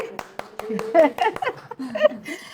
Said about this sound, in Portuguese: Palmas, gente, por favor.